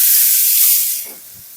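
Squeezed ash gourd dropped into a hot pan for gulkand kasi halwa, giving a loud close hiss of steam and sizzle that eases off after about a second.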